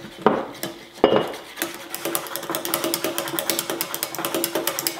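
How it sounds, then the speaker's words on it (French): Pastry cream in a saucepan is stirred to thicken, a utensil knocking and scraping against the pan in a quick, steady rhythm after a couple of heavier clanks, close and without talk. "je vais mélanger pour faire épaissir la pâte"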